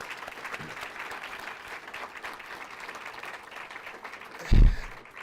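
A round of audience applause at an event celebrating young Black achievers: steady, fairly distant clapping from a crowd, with a single loud thump near the end.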